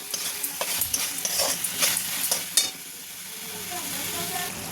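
Thick pasta sauce fries in a pan and is stirred, giving a close sizzle broken by repeated scraping strokes that stop partway, leaving a softer bubbling hiss with no talk.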